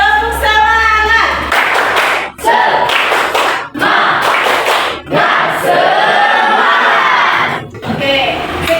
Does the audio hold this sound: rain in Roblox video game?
no